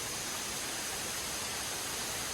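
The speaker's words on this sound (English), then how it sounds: "This massive cliff you see is where the waterfall is." A waterfall at the foot of a massive cliff gives off an even, hissing rush of falling water, faint and distant, steady throughout with no voices.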